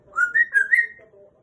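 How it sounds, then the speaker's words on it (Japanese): An African grey parrot whistles a short rising and falling melody of four clear notes, close and fairly loud, then a softer lower tone trails off. "みーちゃん、口笛上手だね。"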